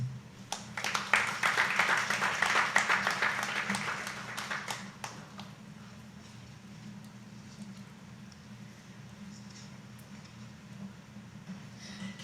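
An audience at a United Nations women's volunteer recruitment workshop gives warm applause that swells for a few seconds and then fades out, leaving a low steady hum of room noise.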